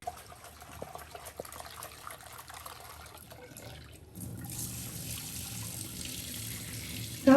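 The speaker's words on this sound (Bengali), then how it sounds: "ডাল দিচ্ছি, ডালটা ধুয়ে নিচ্ছি।" A kitchen tap runs while lentils are washed, first a faint trickle and drips, then a steady, fuller stream of water splashing into the sink that carries on to the end.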